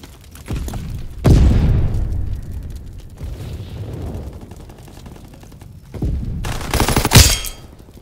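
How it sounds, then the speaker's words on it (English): Incoming enemy artillery in Call of Duty WWII, with heavy booming blasts and rumbling impacts mixed with bursts of gunfire, loud and close, rising again in a dense barrage near the end. "Incoming enemy artillery! Get to cover! Enemy bomb incoming!"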